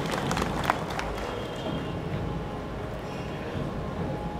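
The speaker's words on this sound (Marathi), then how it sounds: "त्यांना टाळ्या द्या." An indoor audience at a public speech gives a burst of applause, a dense steady patter of many hands clapping that fills the room for several seconds at an even level, with no voice over it.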